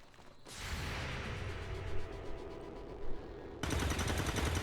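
Squad gunfire from the XCOM 2 video game, a dense, loud, sustained barrage of rapid shots with a few sharper bursts and a harsher volley near the end.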